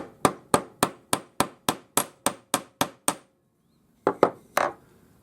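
A hammer strikes the end of a wire resting on a steel bench block to flare it for earrings: ten sharp, evenly spaced metallic taps, a pause, then three more, close and crisp.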